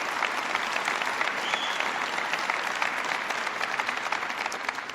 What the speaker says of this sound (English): Please give Bill a big round of applause.